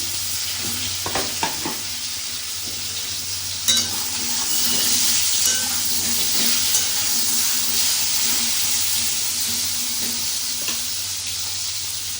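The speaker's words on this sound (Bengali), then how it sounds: "খুব ভালোভাবে পটলগুলো ভেজে নিতে হবে।" Pointed gourd pieces fry in hot oil in a pan, giving a constant loud sizzling hiss broken by a few knocks and scrapes of stirring, with no voices.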